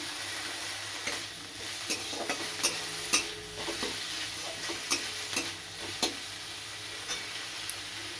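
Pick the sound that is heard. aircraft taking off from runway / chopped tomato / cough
chopped tomato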